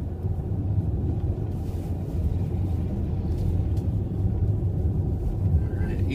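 A 2014 Jeep Cherokee 4x4 cruising on a snowy highway past semi trucks, giving a steady loud low road rumble and tyre roar throughout, with a voice talking over it.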